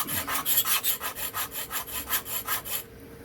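Blade of a Remington Barlow pocket knife stroked against an abrasive, giving a steady run of rhythmic rasping scrapes about four per second, close and dry, stopping abruptly near the end.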